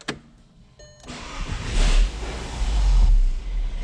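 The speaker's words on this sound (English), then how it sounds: "When you put it in the ignition and try to start a car," A Volkswagen engine cranks and briefly catches with a low rumble, then quickly dies away as the immobilizer cuts it off with an unprogrammed key; a short electronic chime sounds beforehand.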